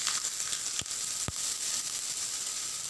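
Mustard seeds, cumin and dried chillies sizzling in hot oil for tempering, a steady bright frying hiss with a couple of sharp pops, close up and with nobody speaking.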